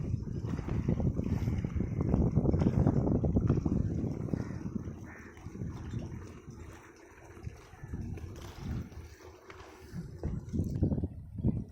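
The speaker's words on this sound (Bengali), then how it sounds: "ইট ভর্তি একটি নৌকা নিয়ে যাচ্ছে" A river boat loaded with bricks crossing a wide river, heard as a steady low rumble with wind buffeting the microphone, louder at first and easing midway before rising again.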